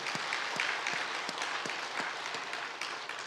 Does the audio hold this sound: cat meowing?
no